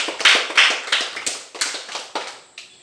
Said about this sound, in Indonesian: tepuk tangan buat Rizky